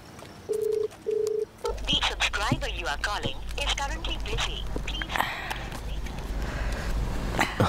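A landline telephone being dialed indoors, two short beeping key tones followed by a low hum, with someone talking over the line.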